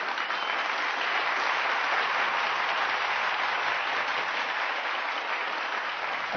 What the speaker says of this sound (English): A deafening applause of 2 minutes followed.